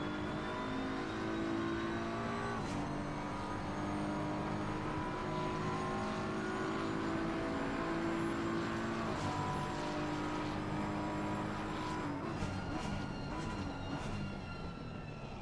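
Onboard BMW race car in Assetto Corsa Competizione at Monza, engine droning continuously with rising and falling pitch through gearshifts, loud and close, with another car's whine joining near the end.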